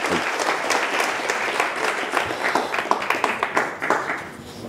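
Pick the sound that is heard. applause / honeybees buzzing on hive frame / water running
applause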